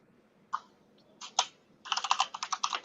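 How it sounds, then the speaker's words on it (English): Typing on a computer keyboard picked up by an open microphone on a group call: a few scattered clicks, then a quick steady run of keystrokes, fairly close and quiet with no talking. "there is somebody's typing in, so mute yourself"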